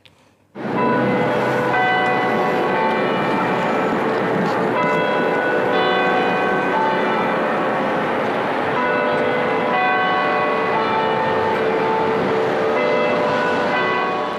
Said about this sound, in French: on va tout de suite écouter le son que jouent les cloches de l'hôtel de ville.